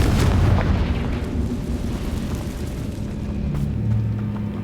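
Confringo fire spell blasts in the Hogwarts Legacy game on Nintendo Switch, a loud, continuous rumbling explosion with booming bursts that swell and settle across the clip, close and alone without talk.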